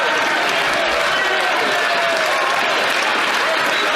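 Members of a parliamentary chamber break into loud, sustained applause mixed with crowd murmur and scattered voices, a thick wash of clapping filling the hall without pause.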